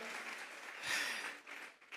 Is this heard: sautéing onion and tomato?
no